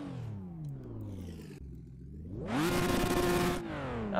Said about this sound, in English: so that we can actually hear the car.